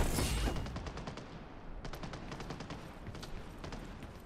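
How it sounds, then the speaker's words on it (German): Gunfire in the video game Lost Light crackles in a fairly faint, distant exchange: rapid bursts of shots repeat steadily over several seconds amid the game's ambient noise. "hinter uns schießt es noch richtig"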